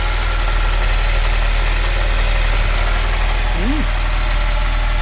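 A Citroën BX petrol engine idles steadily up close, a loud continuous low rumble with no words spoken, after a mechanical fuel pump petrol leak repair.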